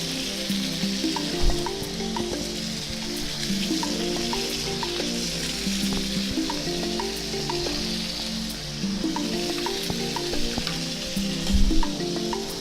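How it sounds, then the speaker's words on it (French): Leeks and other vegetables cooking in water in a pot, a steady bubbling and crackling hiss that holds level throughout with a few low knocks. "Ces deux légumes-là, je vais le mettre à cuire, à bouillir dans l'eau."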